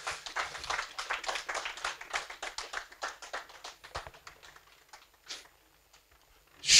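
A church congregation claps together for several seconds in a quick, dense patter that slowly thins and fades, closing with a few scattered claps and a brief louder burst at the end.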